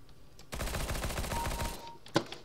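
A loud, rapid burst of automatic gunfire in Counter-Strike: Global Offensive, lasting over a second, followed by a single sharp shot.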